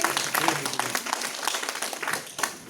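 Applause from an audience welcoming guests at a BJP women's wing meeting in Kathua, a dense patter of many hands clapping steadily throughout, fairly close and continuous.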